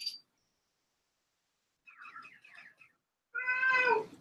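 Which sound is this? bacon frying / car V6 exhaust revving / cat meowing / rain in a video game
cat meowing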